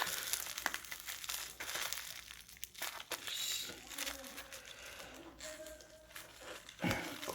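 Someone opens a heavily taped parcel holding a perfume order, producing close, busy crinkling and tearing of plastic packaging and tape, and a person speaks quietly at times.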